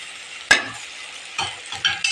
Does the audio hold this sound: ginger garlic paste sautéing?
yes